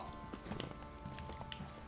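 Horse hooves in The Witcher 3: Wild Hunt video game clip-clop in a quick, uneven rhythm on hard ground, close by, with a soft ambient hum underneath.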